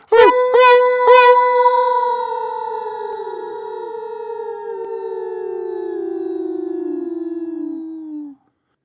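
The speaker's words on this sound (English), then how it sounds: "At least a dozen, no, 2 dozen, wolves howling all together." A wolf-howl sound effect opens with three quick attacks, then settles into a long, drawn-out tonal wail that slowly slides downward and fades over several seconds, with nothing else around it.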